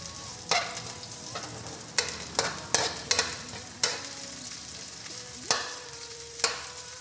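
Pork menudo cooked Kapampangan style is stirred in a pot over the heat. A utensil knocks and scrapes against the pot in irregular, sharp clacks over a soft, steady sizzle, with no talking.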